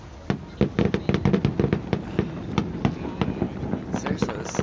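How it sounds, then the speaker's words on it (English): Fireworks display in Vancouver exploding in a dense, continuous run of sharp pops and crackling bursts, loud and fairly near, with crowd noise underneath. "This is the corniest fireworks display I've ever seen."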